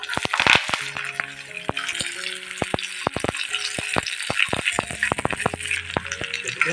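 Shallots, garlic, curry leaves and green chilli hit hot oil for mutton chukka, giving a crackling sizzle broken by sharp spatula clacks and rattles against the pan, with a voice speaking faintly in the background.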